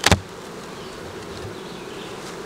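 Honey bees in the upper box of a hive give a steady, soft buzzing hum, with one brief louder burst of sound at the very start before the faint drone continues alone.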